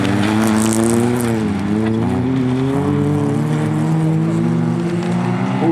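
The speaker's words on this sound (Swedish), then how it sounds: "Arvidsson, då vaknar han till och gasar till." Junior folkrace cars accelerate hard on a gravel track at Falköping, with several engines roaring and rising in pitch close by, steady and loud throughout, rattling over the surface.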